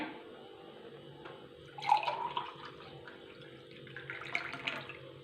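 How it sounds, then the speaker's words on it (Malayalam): Carrot juice pours into a glass in a thin, steady stream, close by, with brief louder splashes partway through. "ഗ്ലാസ്സിലോട്ട് ഒഴിക്കാമേ"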